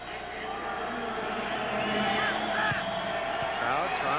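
A crowd in a football stadium roars steadily through a 1997 Utah State at Idaho college game on third and long, a dense, continuous wall of cheering with rising shouts and whistles.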